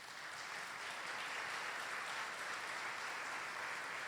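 A church congregation applauds steadily, a dense, even wash of many hands clapping that carries on without a break, fairly soft and heard from within the room.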